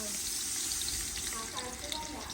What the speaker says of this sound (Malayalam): അപ്പോൾ ഈ ഉള്ളി പൊരിച്ചു കോരുകയാണ്